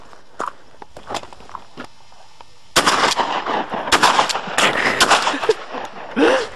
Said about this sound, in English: Nice shooting, Hank.